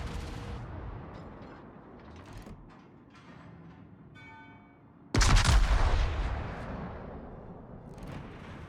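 Battleship main guns fire in a naval combat game: a quiet rumbling stretch gives way to one sudden, loud, booming salvo that decays slowly, with mechanical clanks and distant rumble around it.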